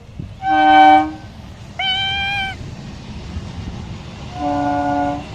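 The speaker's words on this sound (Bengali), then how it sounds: "আর এই দেখো ট্রেন যাচ্ছে।" A train passes near an open field, sounding three loud sustained horn blasts with short gaps between them over a low rolling rumble of wheels on rails.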